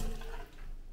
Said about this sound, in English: So you've got your sink, running water, always check, make sure it's not brown